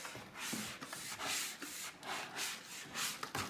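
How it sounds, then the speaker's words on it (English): A Rubbermaid mop's scrubby pad, with the mop held upside down, scrubs a vinyl floor in repeated rough back-and-forth strokes, soft and close, with a steady rubbing rhythm. "you'd have to hold the mop upside down and scrub like this."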